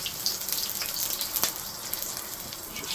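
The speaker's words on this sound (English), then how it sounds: "Sizzle that off." Fresh curry leaves sizzling in hot oil in a pan for a fish curry, a steady crackling fry with small pops, close and alone.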